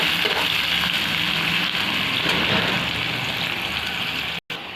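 Onions fry in oil in a pan with a constant bright hiss and crackle, steady and close, broken by a brief cut near the end.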